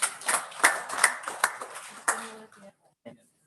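At a Baldwin Park city council meeting, a few people clap in a scattered, uneven way, with sharp individual claps close together that taper off and stop after about two and a half seconds.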